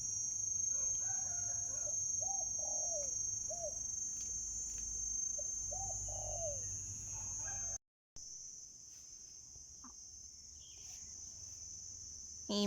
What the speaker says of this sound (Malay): Bunyi burung terkukuk.